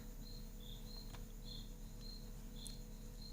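Crickets chirp steadily in short repeated pulses close by, over a constant low background hum on a hot night with an open door.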